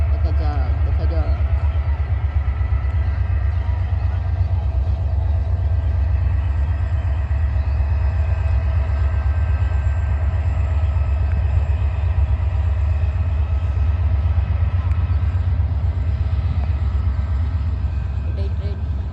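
A train running along the tracks, its steady low rumble and rattle continuous and loud throughout with no clear build-up in pace, while people talk over it.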